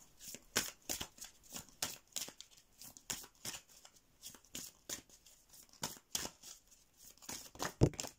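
Tarot cards are shuffled and drawn, giving a steady run of close, crisp riffling and flicking bursts at an uneven rhythm, fairly soft and without speech.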